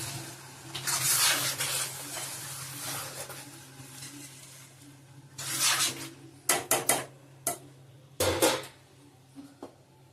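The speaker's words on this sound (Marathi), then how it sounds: "आणि जरासं पाणी घालायचं आतमध्ये" Water splashes and pours into a metal pot for chicken biryani, with clinks of utensils and short bursts of running water against a low hum.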